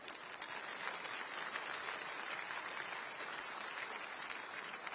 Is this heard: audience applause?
yes